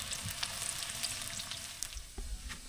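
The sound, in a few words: frying bananas in a pan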